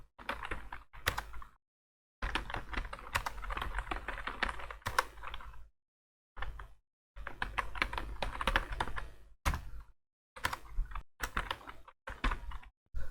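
Rapid keystrokes on a computer keyboard while entering text in MS Word, sounding in close, busy bursts separated by short silent pauses, with no voice over the clicking.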